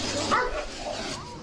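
A German shepherd barks and whimpers at a kitten in a played clip, with short yips and barks heard faintly under a muffled background voice.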